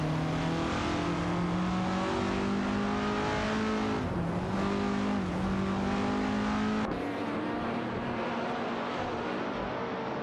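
Race cars in a video game race roar past continuously, engines droning and shifting pitch with several cars overlapping, loud and close with no talking.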